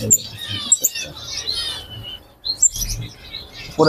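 Small caged birds chirp and tweet in short, high bursts close by, with bits of faint talk and rustling mixed in.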